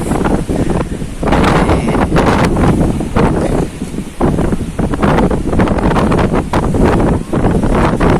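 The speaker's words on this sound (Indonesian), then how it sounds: "Angin begitu kencang." Strong wind whips across a seaside fishing camp spot, roaring and buffeting the microphone in loud, continuous gusts with brief dips, and no voices over the rush.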